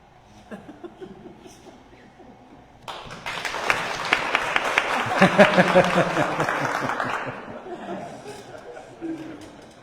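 A crowd bursts into applause partway through, clapping building to a loud sustained peak then tapering, with chatter and some laughter mixed in.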